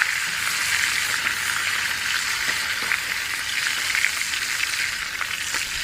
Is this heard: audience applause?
no